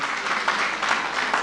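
Steady, dense applause from a church audience at a couples' gala, continuous and fairly loud across the whole stretch with slight swells, no speech over it.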